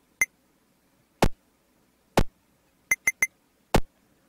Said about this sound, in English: that was my timer, if you could hear that